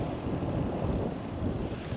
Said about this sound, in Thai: ลมเย็นอยู่นะทุกคน